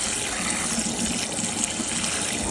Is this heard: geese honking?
no